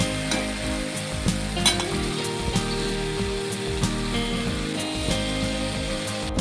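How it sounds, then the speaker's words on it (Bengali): Vegetables, including eggplant, fry in hot oil in a pan for a vegetarian bean-seed dish, giving a loud, steady close-up sizzle with occasional stirring clatter and crackles throughout. "সবজিটা কিন্তু খুব সুন্দরভাবে ভাজা হয়ে গেছে।"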